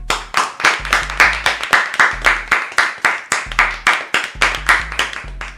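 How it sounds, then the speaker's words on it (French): Close, sharp clapping in a steady, even rhythm, a tribute to wrestler Millie McKenzie, with no voices over it. "On applaudit la meilleure de la galaxie, Millie McKenzie"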